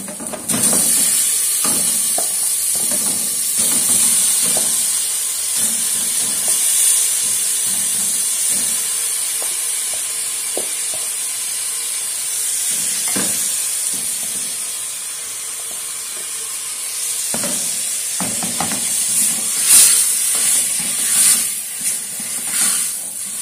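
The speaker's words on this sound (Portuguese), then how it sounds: "Agora eu vou estar colocando a costelinha para dar uma douradinha nela." Pork ribs browning in a pan with bacon, giving a steady, loud sizzling hiss throughout with occasional crackles and pops.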